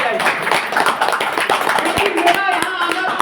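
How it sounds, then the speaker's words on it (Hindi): An audience at a stage program claps enthusiastically for a guest, a close, lively patter of hands with a few sharper individual claps, mixed with voices talking over it. "एक बार उस इंसान के लिए जोरदार ताली दें"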